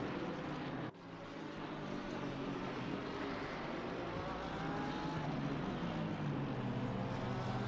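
Aston Martin GT3 race cars in a racing sim at Donington, a steady, loud engine drone that holds for several seconds after a brief drop near the start.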